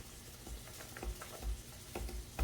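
Parmesan cheese sprinkled over about 1.5 pounds of shrimp, giving soft, faint pattering bursts that come in several brief clusters with no talking.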